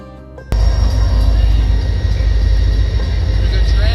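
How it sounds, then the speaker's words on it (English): A train passes close by a cyclist on a road trip across Ontario, with a loud, sudden onset of deep rumbling and rolling noise that stays steady and dominant throughout. "There's a train."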